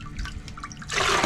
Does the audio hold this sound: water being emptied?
yes